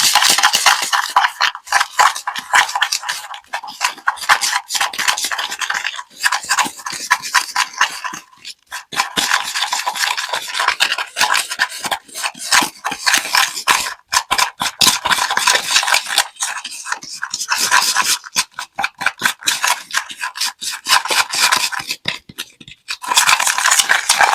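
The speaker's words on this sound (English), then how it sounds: "we'll start stirring this stuff up, trying to make it paste" Basing paste for Bolt Action Soviet airborne miniatures being stirred in a small container, giving continuous gritty scraping and clicking strokes in an irregular rhythm, close and fairly loud, with no talk.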